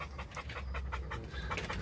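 An American Bully XXL dog pants steadily and rapidly close by, a rhythmic breathy huffing with no speech over it.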